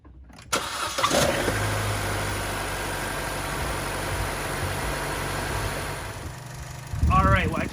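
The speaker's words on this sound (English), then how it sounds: "Let's go ahead and throw the cap on and then start the vehicle." A Chevy Cruze engine cranks and catches, then settles into a steady, close idle, with a brief burst of talk near the end.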